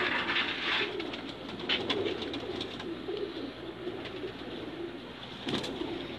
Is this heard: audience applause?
no